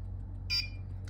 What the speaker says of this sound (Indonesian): buzzer yang menyala secara berkala